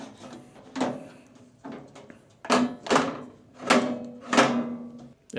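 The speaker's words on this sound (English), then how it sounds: "I'll move the laser out of the way just so it won't be in the way." A Creality Falcon A1 Pro laser engraver is shifted inside a lower tray area, giving several close, dull thunks and scraping knocks spread over a few seconds, with no one talking.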